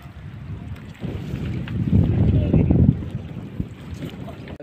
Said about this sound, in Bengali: আর আজকে দেখতে পাচ্ছ নদীতে প্রচুর ঢেউ আর বাতাস হচ্ছে ভালোই।